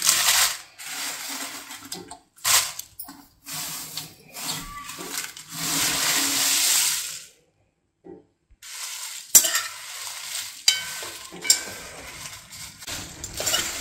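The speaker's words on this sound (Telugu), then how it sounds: "ఇలా ఫ్రై అయినాక ఇప్పుడు ఎండుమిరపకాయలు వేసుకుందాం." Dried red chillies fry in a kadai while a spoon stirs them, giving loud, close sizzling with scraping strokes that briefly stop for a moment of near silence before the frying and stirring resume.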